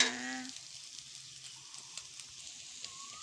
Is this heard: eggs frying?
yes